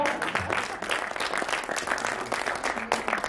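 Audience applause at a hasya kavi sammelan comic poetry gathering in Ghaziabad, dense crowd clapping with a few cheers and murmured voices mixed in, sustained and lively throughout.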